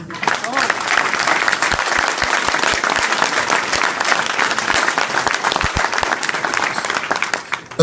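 Audience applause fills the space, a steady dense wash of many hands clapping at a gathering, loud and sustained with no talk over it until it fades at the end.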